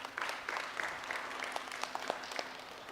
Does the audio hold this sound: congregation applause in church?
yes